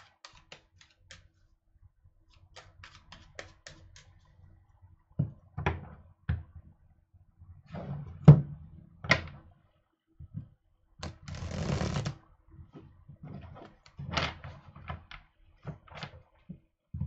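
Soft papery shuffling of cards in a quiet room, coming in short bursts with brief taps and thumps between them, close by.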